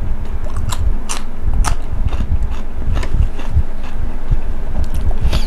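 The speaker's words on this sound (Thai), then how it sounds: "ไม่รู้ว่ามันจะกรอบหรือเปล่ามาชิมกันครับ" Crispy deep-fried pork belly bitten and chewed close to the mic, with loud repeated crunches and wet chewing in an uneven rhythm over a constant noisy background.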